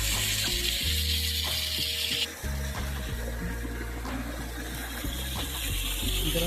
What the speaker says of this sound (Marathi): बघू शकता कसा पडत आहे धबधबा पडतो इथून